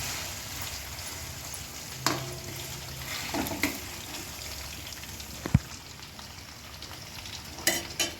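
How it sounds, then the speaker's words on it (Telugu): Chicken pieces frying in a pan for chicken pickle, a steady close sizzle and crackle with occasional sharp pops and stirring scrapes, no talking. "వాటర్ అంతా ఇంకిపోయేలాగా బాగా వేపుకోవాలి ఫ్రెండ్స్"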